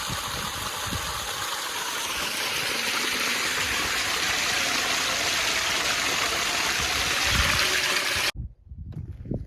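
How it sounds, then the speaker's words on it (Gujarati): A water pump motor running as it pushes out flowing water, a loud continuous rushing and churning hiss with a low mechanical hum underneath, steady and close, cutting off abruptly near the end to leave quieter background. "પાણી મોટર હાલતી કરી દીધી."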